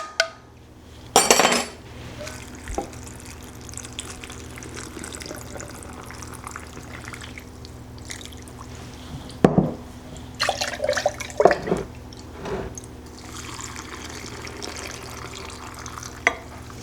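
A spoon stirs salt into warm water in a quart glass jar, with scattered clinks and scrapes against the glass, a few louder bursts of knocking and a soft watery background throughout.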